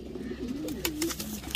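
Pigeons kept by a high-flyer fancier coo in a soft, warbling run of throaty calls close by, with a few faint clicks in the background and no talking.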